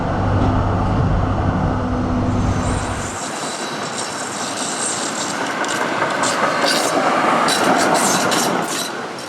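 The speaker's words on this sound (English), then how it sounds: "These trams are fitted with AEG control equipment and Duvac bogies from Germany, which might explain why they sound so familiar to me." A Melbourne Z3-class tram with German AEG control equipment and Duewag bogies rumbles along the rails, loud and close, with a steady drone that shifts as it moves and higher wheel and motor whines building later.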